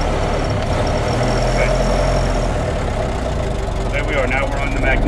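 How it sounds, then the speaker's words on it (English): Ford Model T engine idling on magneto with low throttle and mid timing, a steady close low rumble with faint mechanical clatter, and a person talking over it. "I've got the timing set kind of in the middle, and I've got the throttle low, so it's idling."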